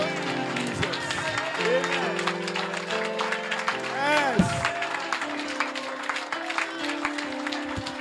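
A church congregation applauds and cheers in a steady wash of clapping and voices, while a preacher's voice and sustained tones carry over the top.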